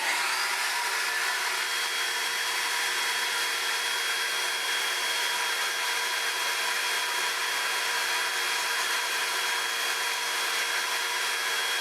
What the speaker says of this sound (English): I'm just going to get the vacuum back on